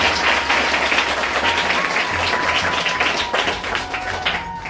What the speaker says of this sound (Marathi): आपण एकदा मोठ्याने टाळ्या वाजवून स्वागत करूया